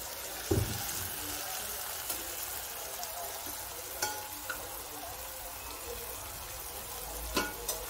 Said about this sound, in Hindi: दाल पालक बन रही है